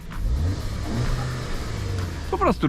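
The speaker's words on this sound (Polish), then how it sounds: "czterocylindrowa benzynka uturbiona" Close-up engine note of a 2015 Audi A3 2.0 turbocharged four-cylinder petrol, a low steady drone that swells briefly near the end, with someone speaking over it.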